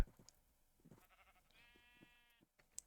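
A single sheep bleats in a video game shearing machine made of a row of deployers, a drawn-out wavering call in the middle of the clip among soft mechanical clicks.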